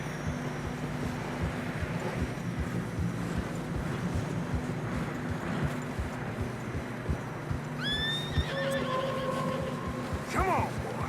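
Horses in Red Dead Redemption 2 plod through fresh snow on a narrow trail, a steady muffled crunch and shuffle of hooves with rumbling low ambience, then two loud whinnies near the end.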